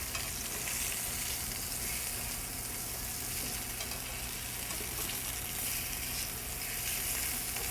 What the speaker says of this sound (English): Now we have a pan that's heated up. We're going to put them in for a quick sear.